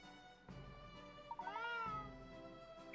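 A cat in a Layton puzzle adventure game gives a short, faint meow over a soft background music bed, with a brief rising chirp near the end.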